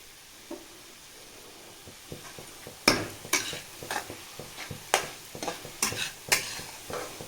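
Mushrooms with butter and garlic frying on high heat, stirred in a pan with a spatula, giving a series of close scraping knocks and brief sizzles at an irregular pace, with no talk.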